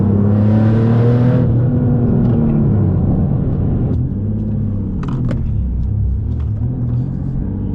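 A single-turbo Nissan 370Z Nismo on 10 psi low boost accelerates hard, its loud, droning engine note rising through the revs, dropping at a shift near four seconds, then pulling again with a turbo whir.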